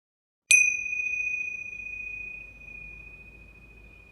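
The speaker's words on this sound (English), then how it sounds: "Maybe sit in meditation for a moment before I close the puja officially with the gong" A single struck gong rings out to close a puja, a sharp bright strike followed by a long, clear sustained tone that slowly fades in a quiet room.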